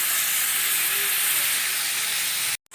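Meat searing undisturbed in a pan while being browned for a beef-and-onion dish, a steady broadband hiss and sizzle held close and loud throughout, cutting off abruptly near the end.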